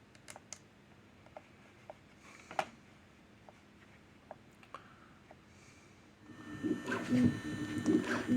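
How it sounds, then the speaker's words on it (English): A Bambu Lab A1 3D printer works through its setup routine with scattered quiet clicks and ticks, then a louder whirring motor and fan sound takes over toward the end. "Now we wait on the old Bambu Lab A1 to go through all of its setup steps."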